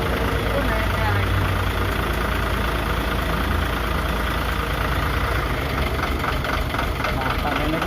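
A Hino Dutro 130 HT truck diesel engine runs steadily with a loud, rough, knocking idle and slight rises in revs, close by, while people talk over it.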